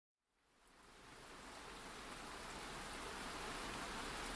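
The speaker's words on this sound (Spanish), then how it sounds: "el sonido del agua de la lluvia os haga dormir" Steady rain falls as soft background noise, fading in quickly and then holding an even, gentle hiss throughout with no voices.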